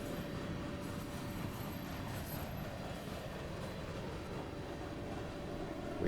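A locomotive idling in Train Simulator Classic on the Columbia Valley Pacific Railway, a low, steady rumbling drone with a faint tonal hum, constant and unchanging throughout.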